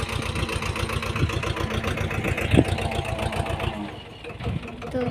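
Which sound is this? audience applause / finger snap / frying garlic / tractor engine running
tractor engine running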